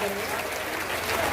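An audience at a devotional Bhagwat Katha gathering applauds steadily, a dense, even wash of clapping from many hands, with a voice speaking over it.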